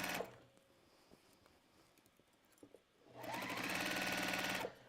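A Juki sewing machine stitching fabric: after quiet handling noises, the motor revs up into a loud, steady, rapid needle chatter for about two seconds, then stops abruptly.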